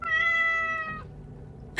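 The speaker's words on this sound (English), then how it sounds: "I gasp, startled by the other cat perched atop my bookshelf." A cat perched atop a bookshelf lets out one clear, drawn-out meow lasting about a second, then near quiet follows until a sudden loud burst at the very end.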